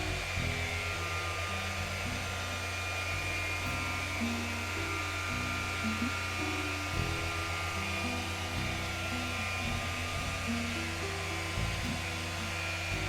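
An electric polisher with an ultra-fine buff pad works compound across the roof of a Volkswagen Golf R, a loud steady whine and hum that wavers slightly in pitch as the pad moves.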